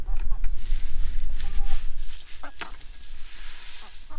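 Backyard chickens cluck and squawk close by in short, scattered bursts over a low rumble of handling noise, with no talking.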